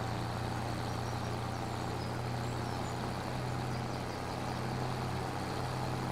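A 180-horsepower tractor engine idling in a farming video game on Ebony Island, a steady, even low drone with no change in pitch or level throughout.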